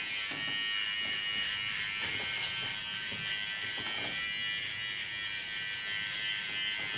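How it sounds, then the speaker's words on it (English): A small electric hair clipper buzzes steadily and close by while trimming a neckline contour during a buzz cut, a continuous high-pitched whine with slight fluctuations throughout and no talking. "I clean the contour line with a small clipper."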